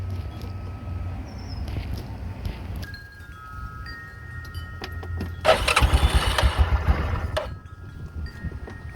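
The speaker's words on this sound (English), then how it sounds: "I'm gonna start up the motor" A cold Yamaha Rhino 450/660 UTV engine cranks and fires, with a low rumble building into a louder surge of revving, then settling back to a steady idle, with some wind noise.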